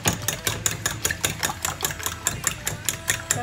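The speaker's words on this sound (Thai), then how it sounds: "นี่ไข่เราก็ตอกเสร็จแล้วเราก็จะมาตีไข่นะคะ" Eggs for steamed egg with minced shrimp are beaten briskly in a bowl, a fast regular train of sharp clicking strokes, close and fairly loud, with no talk.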